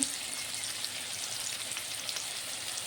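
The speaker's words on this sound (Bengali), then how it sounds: "আলু আর পেঁয়াজ এবার ভালো করে ভেজে নেব।" Potatoes and onions frying in a pan as part of a fish curry, a soft steady sizzle at low level with no talk.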